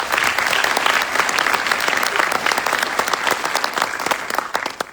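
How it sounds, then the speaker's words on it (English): The audience at a graduation ceremony breaks into loud, sustained applause, a dense crowd of hands clapping without pause for about five seconds, with no speech. "So please, everybody, give the cadre a round of applause."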